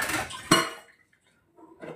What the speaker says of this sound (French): Je vais nettoyer un peu ma vaisselle,